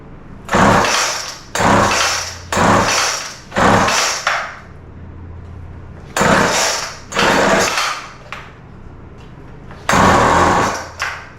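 A string trimmer's small two-stroke engine, which will only start on choke, fires in a string of short rough bursts, each revving briefly before dying back, with quieter gaps between.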